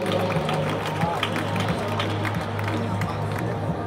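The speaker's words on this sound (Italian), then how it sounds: "un applauso per il nostro Jonathan, che è sincero." An audience at the Italia Tattoo Convention in Ancona claps in a dense, steady patter over a low constant hum, with faint crowd babble mixed in.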